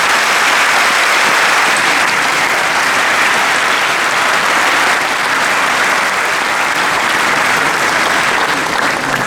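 Loud, sustained audience applause fills an award ceremony hall, a dense wall of clapping from a large crowd that holds steady throughout without letting up.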